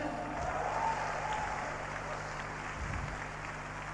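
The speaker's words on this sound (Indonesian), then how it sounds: "Tepuk tangan buat United Core Vision." Audience applause at a business seminar stage event, a continuous wash of clapping from a crowd with a faint voice underneath, steady for the whole span.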